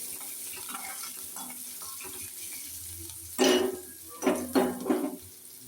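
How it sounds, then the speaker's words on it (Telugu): Sankaya seeds fry in a pan with a steady low sizzle, then several louder bursts of stirring and scraping in the second half, with no talking. "ఇదండి శంకాయ విత్తనాలు బాగా వేగిపోయినాయండి"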